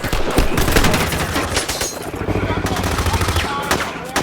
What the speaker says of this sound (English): They carry powerful automatic weapons and begin firing without mercy.